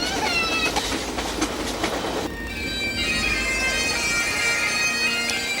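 A passenger train on a cross-Canada line pulls into Banff station, with a steady rolling rumble, wheel clatter and sustained high wheel squeal building over the second half, close and continuous with no talk.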